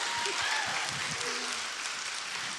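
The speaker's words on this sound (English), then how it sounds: "Big round of applause." Applause from a small group at a vocal workshop, a steady dense patter of hands holding throughout with a few faint voices mixed underneath.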